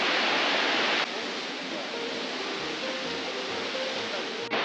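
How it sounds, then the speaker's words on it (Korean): Waterfall at Gangcheonsan mountain, about 40 m high and 15 m wide, pouring roughly five tonnes a minute, roars as a steady broadband rush. A faint voice speaks beneath the constant noise. "낙수량은 분당 5톤 정도에 이르는 폭포입니다."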